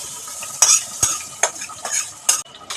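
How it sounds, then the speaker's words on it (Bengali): Spatula stirring onions and spices as they fry for mutton do-peyaza, sharp scraping strokes against the pan at an uneven rhythm over a low background sizzle, close and with no voices. "সমস্ত মশলার সাথে এটা নাড়তে থাকবে।"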